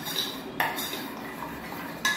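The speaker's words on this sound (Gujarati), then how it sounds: "આ બે બરાબર હું મિક્સ કરીશ" A spoon mixes eggless mango muffin batter in a bowl, giving a faint scraping stir broken by two sharp clinks of metal against the bowl rim, with no talking.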